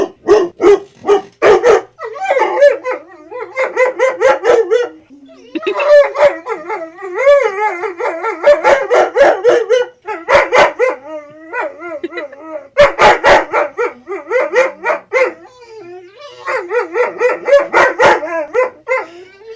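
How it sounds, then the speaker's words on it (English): A dog barks and howls loudly and close by, in repeated bursts of sharp barks that run into long, wavering howls, with brief pauses between the bouts. "That was my dog."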